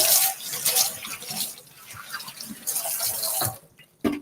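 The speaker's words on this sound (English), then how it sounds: "I'm gonna rinse this off." Tap water runs in a kitchen sink as food is rinsed off under the stream, a close, splashing gush that shifts in strength and stops briefly near the end.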